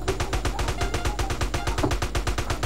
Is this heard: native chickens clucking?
no